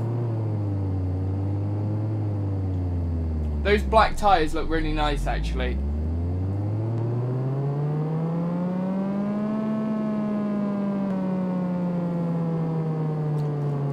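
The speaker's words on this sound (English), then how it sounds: "Start engine." A Mazda RX-7 rotary engine in Car Mechanic Simulator starts and revs on a dyno, its loud steady tone rising and falling in pitch over several seconds while someone speaks briefly over it.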